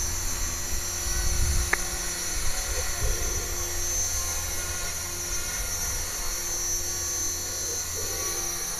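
An RC helicopter fitted with an Ino-Lab HGD-201HB tail servo flies outdoors on a gusty day, its steady whining rotor and motor drone sustained throughout with a brief click near the start.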